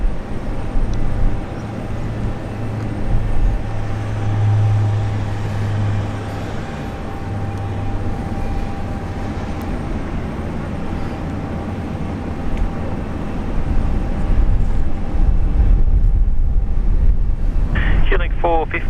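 Dash 8-400 turboprop at Brisbane International Airport, a continuous engine drone with a steady low propeller hum rising and falling over about nineteen seconds and a brief burst of other noise near the end.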